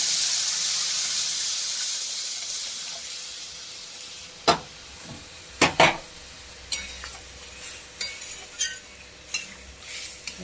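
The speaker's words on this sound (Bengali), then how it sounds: "আর এই যে সর্ষে। যে দেখুন ডাল ঢেলে দিলাম।" Dal poured into a hot pan with mustard seeds sets off a strong hiss that fades over several seconds, followed by sharp metal clanks and spoon taps against the pan, near and without talk.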